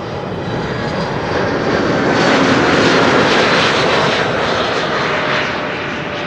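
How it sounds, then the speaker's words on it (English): Large airliner landing at a busy international airport, a steady broadband engine roar that swells toward the middle and eases again, continuous and fairly close, with no voices. "wide-bodied airplanes land here after this Transavia narrowbody has landed."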